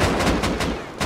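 Rapid burst of loud, close gunfire from a weapon in the survival game Rust, several sharp reports in quick succession within about a second, with no talk over them.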